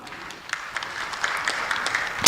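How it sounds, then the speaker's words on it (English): An audience applauds at the closing ceremony of a university research and innovation conference, a steady patter of many hands clapping that builds slightly over a couple of seconds, with a louder burst of claps right at the end. "Clap for yourselves."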